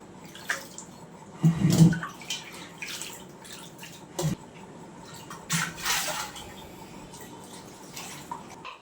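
Water splashes and sloshes inside a clay water pot being washed, with intermittent swishes, drips and a hard knock against the vessel.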